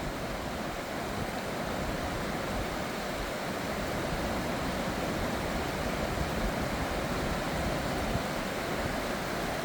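Mersey River in Tasmania running down over flat rock toward Oxley Falls, a steady, dense rush of flowing water that holds constant and loud for the whole stretch, with no voices.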